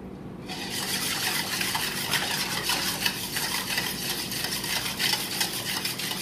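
Bread dough ingredients being stirred and mixed by hand in a bowl, a steady close scraping and churning texture that runs continuously without a break.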